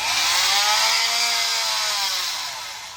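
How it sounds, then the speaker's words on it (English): A Milwaukee battery multi-tool scrapes a mower deck with a loud, close, continuous buzzing whine, steady for a few seconds before easing off slightly toward the end, with no talk. "I think this is my new favorite Milwaukee tool, the multi-tool."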